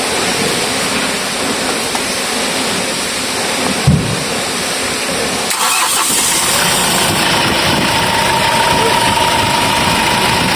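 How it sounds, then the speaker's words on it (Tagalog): An engine with a faulty bearing turns over and settles into a steady, loud idle that continues throughout, with a brief knock partway through. "So ito try natin papaanda rin kung mawala ba yung tunog."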